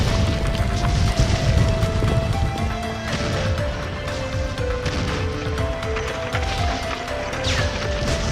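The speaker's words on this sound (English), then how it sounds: "there was a huge explosion and the roof was destroyed" A huge explosion tears through a roof amid a clash of armies, with heavy crashing and booming impacts under a dense, continuous rumble of debris and turmoil, no voices.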